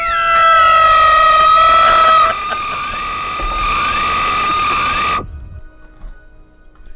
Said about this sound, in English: it was silent except for blaring out a high-pitched tone and what sounded like sirens